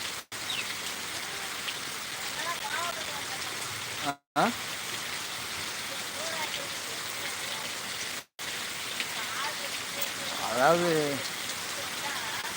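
Rain falls steadily on a surface outdoors where a cow stands getting wet, a dense constant hiss broken by two brief dropouts, with faint voices and a rising tonal sound near the end.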